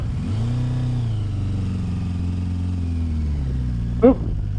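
A Kawasaki Voyager XII motorcycle pulls away in too high a gear, its engine lugging with a low, steady drone close by that strains along without rising, ending in a brief sharp clunk.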